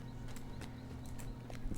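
In the Lord of the Rings Online video game, a horse's hooves clip-clop at an even trotting pace over a low steady hum, fairly faint and without speech.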